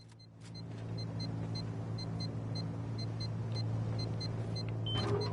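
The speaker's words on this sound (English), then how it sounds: "Car at the door." A steady low car engine rumble idles throughout in the video game Rust, with a faint repeating high beep chirping over it.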